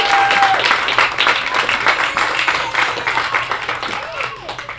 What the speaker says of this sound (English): Can we have a big round of applause for the groom?